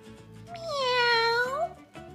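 A cartoon cat in Toca Life World gives one long, clear, rising-then-falling meow, close and prominent above a soft, steady background music loop.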